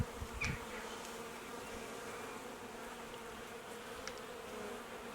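Honey bees buzz in a low, steady drone as a spring hive is opened for inspection, with a brief louder flurry near the start and faint scattered sounds over the continuous hum.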